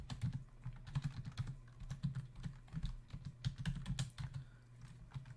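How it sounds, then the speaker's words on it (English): Steady typing on a computer keyboard, close and fairly quiet, with rapid uneven clusters of key clicks and short pauses throughout. "So let me type that in over here."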